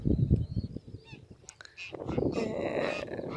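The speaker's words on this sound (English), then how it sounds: "some really loud geese over here" Several loud geese honk outdoors, near and harsh, calling repeatedly across the clip along a road while someone roller skates.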